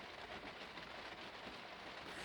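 Steady rain drums on the roof of a motorhome, a continuous dense patter heard from inside, even and unbroken with no voices.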